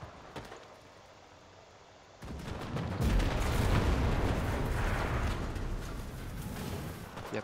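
Continuous rumbling barrage of distant artillery and explosions in the Enlisted war game, starting quiet then swelling into loud, dense booms and crackling gunfire that roll on without a break.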